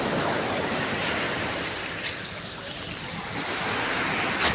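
Sea waves break on a shore in a continuous broadband wash of surf, loud and close, with wind buffeting the microphone and a few brief surges rising out of the steady roar.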